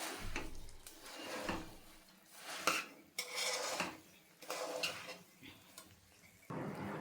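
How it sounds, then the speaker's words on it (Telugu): Two spoons scrape and clatter against a pan over a low flame as puffed rice is tossed with jaggery from bottom to top, in uneven bursts of metallic scraping and rustling with brief pauses. "2 స్పూన్లు పట్టేసుకొని ఈ విధంగా కింద నుంచి మీద దాకా ఈ విధంగా కలుపుకోండి"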